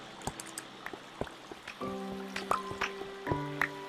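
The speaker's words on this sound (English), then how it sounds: "When you press this, it just opens up these pistons, letting the water flow, and it takes out all these cocoa beans." Water released through the pistons of a cocoa bean washing machine: irregular drips and splashes at first, then a steady flow sets in with ringing, pinging tones from the metal machine, close and moderately quiet.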